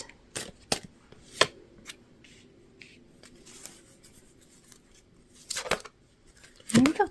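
Oracle cards are shuffled and handled up close for a full moon pick-a-card reading, with scattered riffles, slides and papery flicks separated by quiet gaps.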